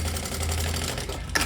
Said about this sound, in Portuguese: Eu costuro uma lateral.